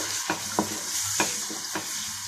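Chopped onions frying in hot oil for stuffed eggplant, a steady low sizzle broken by four spaced scrapes of a spoon against the pan, close and moderately loud, no talking.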